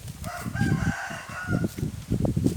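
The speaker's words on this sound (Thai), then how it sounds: "ไก่นี่เต็มคอกเลย" A rooster crows over clucking chickens in a crowded three-pen chicken coop on a Thai farm. The crow rises clearly over a busy, close chorus of hens clucking, with no talk.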